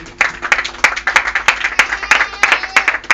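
Church congregation applauding together, a dense, loud burst of rhythmic clapping from many hands, fairly close and continuous for a few seconds, with a few voices mixed into the crowd.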